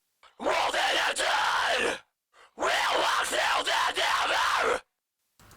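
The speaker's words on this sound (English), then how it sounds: "I have some distorted vocals that needs some messing up basically" Two long bursts of harsh, heavily distorted metal vocal from an Audio Assault Head Crusher distortion plugin with output cranked, gritty and buzzing, separated by a short silence, loud and up front.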